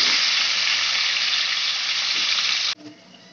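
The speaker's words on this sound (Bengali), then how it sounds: "কচুগুলো ভালো করে ভেজে তুলে নিচ্ছি।" Taro roots fry in hot oil with a loud, dense, steady sizzle that cuts off abruptly near the end, leaving only faint kitchen noise.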